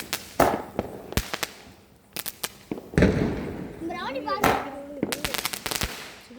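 A 25-shot firecracker cake goes off outdoors in a rapid, irregular string of sharp, loud bangs, some close and some further away, with a few whistling tones and a person talking between the blasts.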